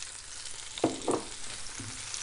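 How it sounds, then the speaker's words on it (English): Red onions sautéing in a hot pan give a soft, steady sizzle, with a couple of light spatula scrapes partway through. "All I know is I've chosen red onions today. I'm going to saute those bad boys down."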